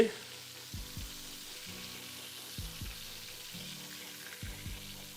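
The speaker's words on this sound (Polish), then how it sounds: "Pięknie skwierczy." Steady crackling sizzle of ham slices frying in a pan, close and fairly quiet, with occasional soft clinks and scrapes over a low hum.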